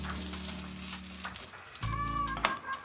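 Pizza bread fries lightly in an oiled pan with a gentle, continuous sizzle, broken by a few small clinks from the pan.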